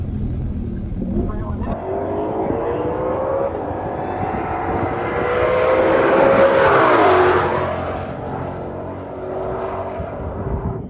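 A 2020 Shelby GT500 engine roars steadily at high revs at full throttle, swelling louder and then fading as the car passes close by.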